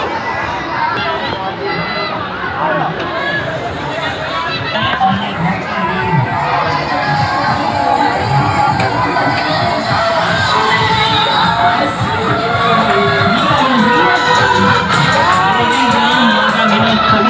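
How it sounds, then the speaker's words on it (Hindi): A dense crowd at the Mirapur Bhawre ka Mela village fair: continuous loud chatter, shouts and children's voices blend into a busy, close hubbub that swells slightly toward the end. "देख सकते हैं बहुत भीड़ है।"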